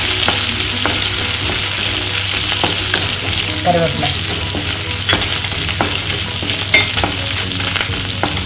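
Mustard seeds, urad dal, chana dal and cashews fry in a pan, with a loud, dense crackling sizzle and repeated sharp clicks of stirring, close up and without speech.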